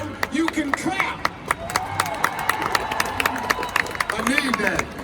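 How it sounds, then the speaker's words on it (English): A large arena crowd in Dubai claps and cheers for a star comedian and host, sharp individual claps popping over a continuous crowd roar while voices call out through it. "If you put your phones down, you can clap"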